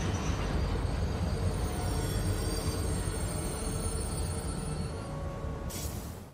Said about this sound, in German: dass der Soundeffekt für das Quietschen der Bremsen des Zuges überarbeitet wurde